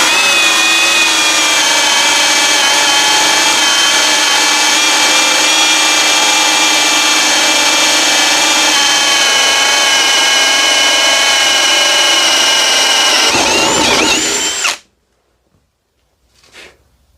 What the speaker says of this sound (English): we're going to do our test with that hole saw.